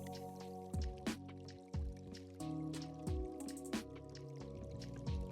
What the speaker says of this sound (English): I start by pouring my dark purple shade of resin into the center of the mold.